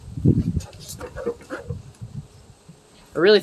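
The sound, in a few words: bees buzzing around a porch hive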